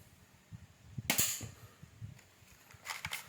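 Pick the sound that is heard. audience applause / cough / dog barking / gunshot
gunshot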